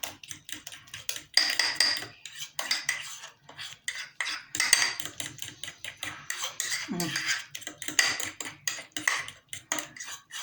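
Flour, yogurt, egg and vanilla beaten together in a bowl, giving fast, rhythmic clinking and scraping of a utensil against the bowl in close bursts with brief pauses. A voice murmurs briefly partway through.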